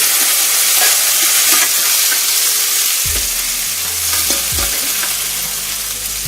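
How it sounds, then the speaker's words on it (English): Beef pieces sear in a hot skillet with a loud, dense, continuous sizzle close up, with faint scraping as the pieces are moved around. "I'm searing the other side."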